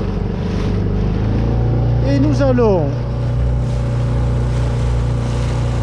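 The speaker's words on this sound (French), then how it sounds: "il y a le bruit du moteur" A boat engine drones loudly and steadily throughout off Spetses in the Peloponnese, Greece, with someone speaking briefly over the constant hum.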